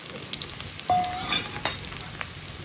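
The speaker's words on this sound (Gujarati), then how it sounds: "સૌથી પહેલા આપણે છે ને ડુંગળીને તળી નાખીએ." Onions sizzle in hot oil with a brief clatter as they go in, then a continuous crackling hiss that fades slightly.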